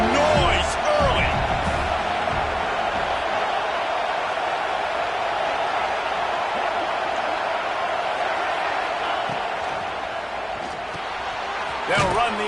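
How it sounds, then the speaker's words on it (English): A stadium crowd at a football game roars in a loud, steady wash of cheering and noise that holds for the whole stretch and dips slightly before swelling again at the end. "This crowd bringing the energy and noise early."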